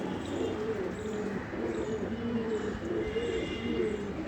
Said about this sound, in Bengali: এই কিছু পায়রা ছেড়েছি বাইরে